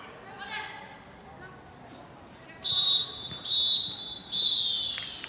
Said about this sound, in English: And there goes the half-time whistle